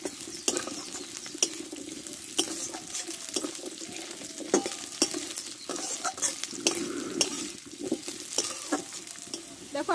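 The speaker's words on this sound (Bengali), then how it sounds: "দিয়ে আলুটা একটু ভালো করে কষে নিব" Potato pieces stir-fried with garlic in a pan, a continuous sizzle broken by repeated sharp scrapes and clacks of a spatula against the pan, close and steady with no voices.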